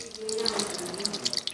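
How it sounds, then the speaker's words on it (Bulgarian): Water pouring steadily down an apartment wall, leaking from the flat above, heard as a close, continuous trickling rush with faint voice-like tones beneath. "По стена в дома им тече вода от горен етаж"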